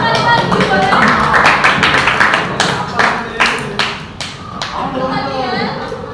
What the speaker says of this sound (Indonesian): Beri tepuk tangan sekali lagi boleh?